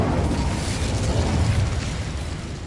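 The Incendio fire spell from Hogwarts Legacy on PS5 roars as a continuous, loud, low whooshing blaze with crackling bursts, holding steady for a couple of seconds with no voices.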